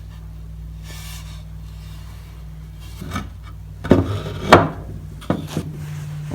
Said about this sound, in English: we'll do a little bit of sanding